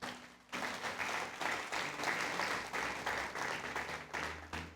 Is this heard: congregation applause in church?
yes